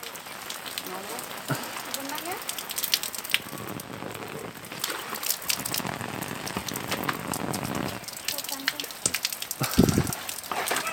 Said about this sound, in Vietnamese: Nguy hiểm quá, hôm nay mưa đá.